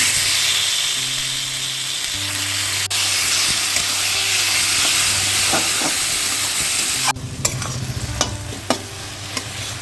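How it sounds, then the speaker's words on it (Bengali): Elephant foot yam stalks fry in oil with nigella seeds, green chili, garlic, salt and turmeric. A loud, constant sizzle runs throughout, and clattering stirring strokes join near the end. "ওলের ডাঁটাটা ভাজা হয়ে গেছে"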